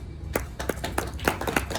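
Clapping at a monthly Brahmin community matrimonial introduction gathering, a handful of separate distinct claps at an uneven pace, moderately close and not very loud, with no full applause swell.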